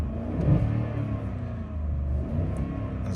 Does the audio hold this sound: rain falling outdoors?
no